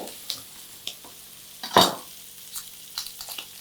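Half an onion goes into a frying pan, giving a faint, steady low sizzle with one brief louder burst as it lands and light scattered clicks of utensils against the pan.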